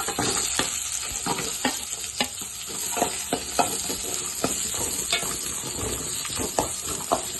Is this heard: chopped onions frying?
yes